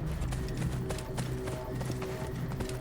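Horse hoofbeats clip-clop in a quick, steady rhythm in the video game Assassin's Creed Origins, close and fairly loud over a low background rumble.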